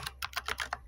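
Quick keystrokes on a computer keyboard come in a burst of about six close, crisp clicks at an uneven, brisk pace, with no voice present.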